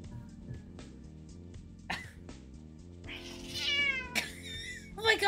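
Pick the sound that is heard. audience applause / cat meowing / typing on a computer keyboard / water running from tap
cat meowing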